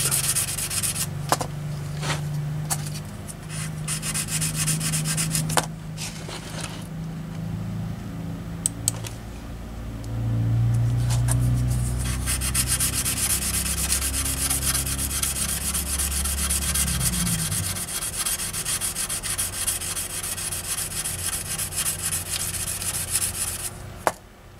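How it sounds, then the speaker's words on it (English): Buffing a B-47 Stratojet model painted with metallic aluminum paint from the hardware store, a continuous close rubbing hiss with some low hum underneath, steady throughout with a few brief taps. "Hey, a little more buffing right there."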